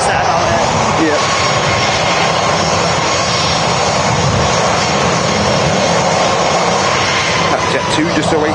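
Jet airliner engines roar at Manchester Airport as easyJet and Jet2 aircraft wait near runway 23 left, producing a loud, steady broadband rumble that holds throughout while someone speaks over it.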